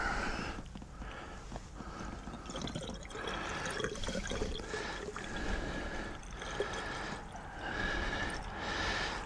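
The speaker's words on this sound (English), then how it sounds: "What that's going to do is push all that water in your intake manifold out to your exhaust." Water gurgles and splashes through a 1976 Mercruiser 120hp marine engine on a 1976 Starcraft boat during winter flushing, a steady close rushing broken by short pauses and sputters.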